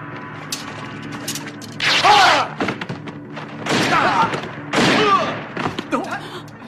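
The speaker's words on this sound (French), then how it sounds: "C'est quoi ça? Des coups de feu." Several sharp bursts of gunfire ring out in separate volleys in a martial arts action film scene, loud and close, with quieter rustling and thuds between them.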